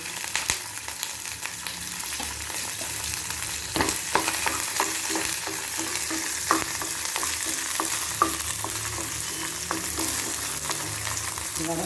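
Ginger and garlic, with green chillies, sauté in a hot pan for a street-food style chutney, a steady close sizzle broken by scraping stirs and occasional spatula taps, with no voices.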